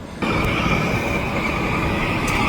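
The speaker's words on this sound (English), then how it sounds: "Oh, train incoming." A SkyTrain pulls into a station close by, a steady continuous rolling roar with a high squealing tone from the wheels, no voices.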